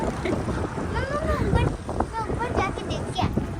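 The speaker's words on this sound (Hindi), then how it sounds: "एकदम से इतनी तेज हवा चल पड़ी है।" Strong gusting wind outdoors carries dust and buffets the microphone in loud rough rushes, while people talk close by over it.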